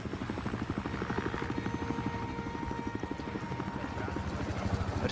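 A helicopter in the video game Battlefield Hardline, flying over a city under siege. Its rotor beats in a fast, steady chop under a low engine drone, close and continuous throughout.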